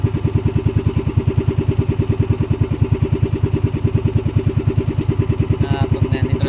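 A small boat engine runs fast with a rapid, even, loud chugging pulse close by, a faint brief high noise near the end.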